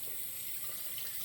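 Hot water runs from a bathroom tap over a Parker SoloEdge SE safety razor being rinsed, a steady, even hiss of splashing water with no voices.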